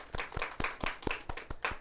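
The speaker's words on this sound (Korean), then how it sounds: "하나님께 박수로 영광 드리겠습니다." A church congregation clapping in a steady, even rhythm during Sunday worship, about four claps per second, fairly close and loud with no talking over it.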